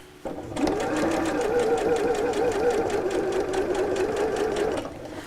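A sewing machine runs steadily, stitching about a quarter inch in from the seam around a fabric edge, with a fast even needle rhythm and a motor whir that starts, holds for several seconds, then stops.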